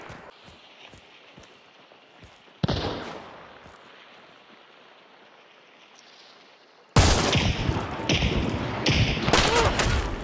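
Gunfire in Hunt: Showdown, with a sharp shot at about 2.5 s trailing into a long echo, then a loud burst of heavy shots and impacts toward the end.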